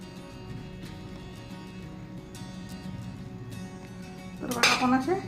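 Knife cutting steamed aluchi vadi (colocasia leaf rolls) into pieces in a home kitchen, a low steady scraping bed that ends in a brief sharp metallic clink of utensils near the end.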